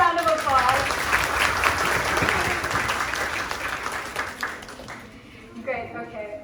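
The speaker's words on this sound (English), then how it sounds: "Can you guys please give a round of applause?" An audience at a Microsoft ambassadors event bursts into sustained applause and clapping that fills the room, with voices audible beneath it. The clapping thins out toward the end as a speaker begins talking again.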